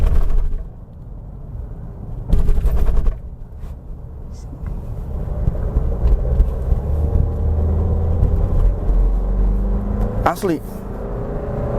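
An SUV pulls hard at speed, its engine and road rumble droning steadily from inside the cabin while someone talks over it.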